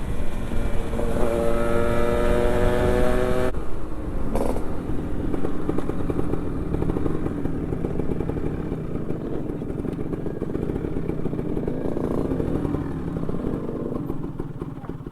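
A Kawasaki Ninja RR motorcycle on a touring ride gives a sustained engine drone with wind rush, a brief louder passing tone early on, then a steady, continuous hum.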